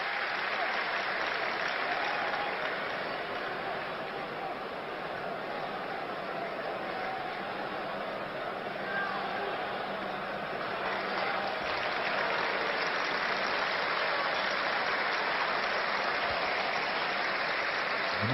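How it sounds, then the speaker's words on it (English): Arsenal fans at a football match against Chelsea give a sporting round of applause, a steady, loud stadium-wide clapping that holds evenly throughout. "A sporting round of applause from the Arsenal fans."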